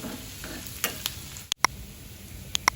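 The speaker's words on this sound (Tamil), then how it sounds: "இப்போ இதை நல்லா வதக்கி எடுத்துக்கலாங்க." Curry leaves, dried chillies and asafoetida frying in oil for a tempering, a low steady sizzle with a spoon stirring and several bright metallic taps against the pan.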